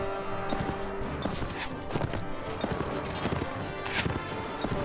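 Steady clip-clop of horse hooves on hard ground in the video game Mount & Blade: Warband, a busy continuous rhythm with clatter and scattered crashes mixed into a dense battle din.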